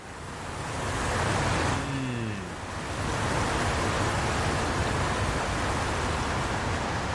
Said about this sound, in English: Oh, you can hear all the water.